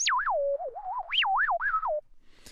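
A synthesizer imitates R2-D2, its resonant filter cutoff swept fast to make a run of chirping, warbling beeps that glide up and down in pitch, clear and close, then stop abruptly.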